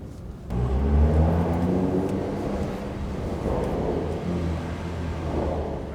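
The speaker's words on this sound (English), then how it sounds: "Car sounds great." A BMW F80 M3 engine runs close by with a deep low rumble, swelling briefly as it revs and then settling into a sustained drone while driving. No one speaks.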